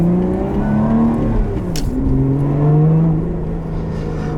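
A supercharged 2021 Lotus Evora GT engine revs from inside the cabin, a loud continuous growl rising and falling in pitch through shifts, with a brief whoosh midway.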